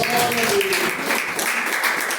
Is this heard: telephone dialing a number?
no